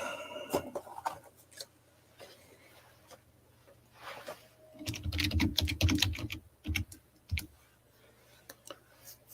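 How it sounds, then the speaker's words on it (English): Someone types on a computer keyboard near a desk microphone in irregular bursts of clicks, with a denser flurry of keystrokes partway through and occasional louder taps. "You're probably hearing all my typing."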